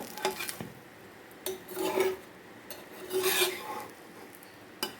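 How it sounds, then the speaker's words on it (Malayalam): A cake dosa being stirred in a pan, several short scraping and rubbing strokes of a utensil against the metal, close and fairly quiet, separated by brief pauses. "അപ്പോൾ ഇതുപോലെ ഇളക്കി കൊടുക്കുക"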